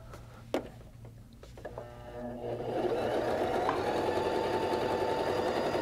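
A Baby Lock Joy sewing machine stitching a zigzag, starting with a few clicks and taps before settling into a steady, fast mechanical whir that runs to the end, close and clear with no talking.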